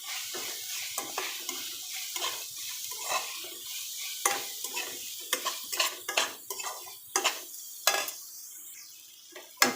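Onions frying in a pan for a soya chunk curry, with a spatula scraping and clinking in irregular strokes over a steady close sizzle and no voices.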